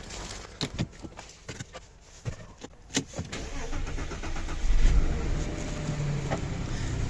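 A VW Touareg 3.6 FSI, prone to intermittent intake backfires on morning starts, cranks in a series of sharp, rhythmic bursts after standing overnight before the engine catches and settles into a steady, rumbling idle.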